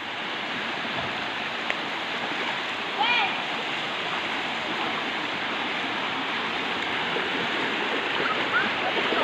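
River water flows steadily in a broad, continuous rush, close and fairly loud, with faint voices briefly in the background.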